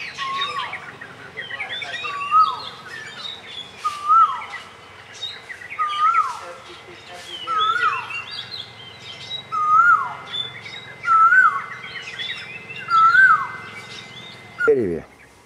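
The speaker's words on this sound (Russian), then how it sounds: "Бородатка." Barbet calling repeatedly in Koh Lanta, Thailand, with a series of short, evenly spaced hooting notes over a busy background of other birds chirping nearby.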